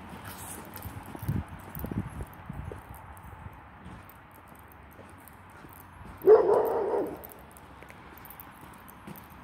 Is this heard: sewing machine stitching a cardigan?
no